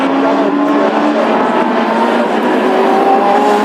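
Classic hot rod race cars battle down the home straight at a Birmingham oval, a loud, continuous engine roar with several motors blending and shifting pitch as they pass fairly close.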